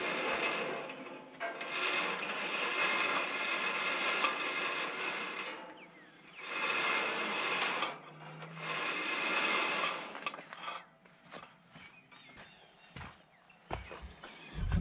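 A cable winch on a Belsaw M14 sawmill carriage, fitted with a new wire line, ratchets and clanks in several bursts of mechanical rattling separated by pauses, with scattered knocks and clicks toward the end.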